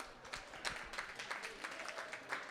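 An audience at a meeting applauds city staff, a faint, thin patter of scattered hand claps from a small crowd heard at a distance.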